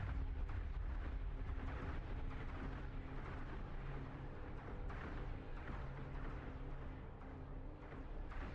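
Missile explosion in a 3D spaceship combat game, heard as a dense, sustained rumbling roar with a heavy low end that continues at a steady, loud level throughout.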